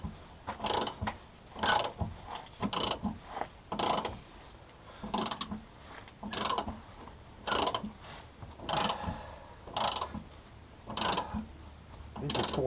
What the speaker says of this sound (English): it's just a regular ratchet